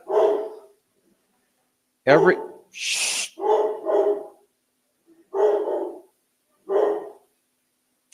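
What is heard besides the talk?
dog barking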